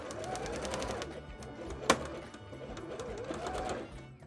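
Domestic sewing machine stitching fabric up the side of a handmade bra, a steady close, fast mechanical whir with regular needle ticks throughout and one brief sharp click partway through.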